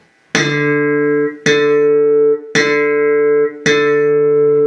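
Four popped slap-bass notes, the string pulled up so each snaps in sharply and rings out for about a second before the next, evenly spaced with no voices.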